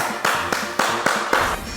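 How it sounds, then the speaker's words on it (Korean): Five crisp, evenly spaced hand claps ring out close by in a steady rhythm, each a sharp bright slap with a short decay. "이 고마운 수박에게 박수를 보냅니다."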